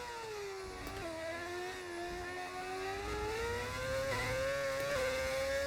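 F1 race car engine in a Formula 1 video game, a continuous high whine that rises and falls in pitch, with quick shifts and blips as it revs, steady and fairly close.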